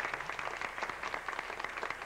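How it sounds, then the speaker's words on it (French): Audience applause for the mayor at a 1981 Valentine's Canadian evening, a soft, steady patter of many hands clapping, faint and somewhat distant. "On va l'applaudir,"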